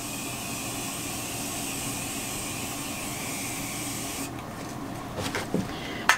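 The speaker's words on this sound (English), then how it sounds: "So I'm going to spray my face." Tarte Miracle Mist face spray, a maracuja oil mist, gives a steady close hiss that runs for several seconds, then tapers into a few short bursts near the end.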